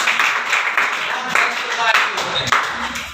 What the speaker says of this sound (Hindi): बहुत बढ़िया, ताली।